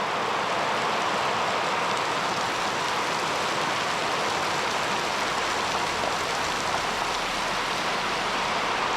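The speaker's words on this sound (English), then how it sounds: "It's raining pretty hard now." Heavy rain pours steadily on a farm, a dense, continuous hiss of drops striking surfaces that stays loud and unbroken from start to finish, with no voices.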